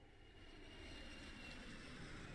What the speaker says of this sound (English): Also, I love how it's like a jet engine sound.